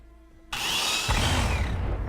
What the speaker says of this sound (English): Hell yeah, the chainsaw! That's my blaze.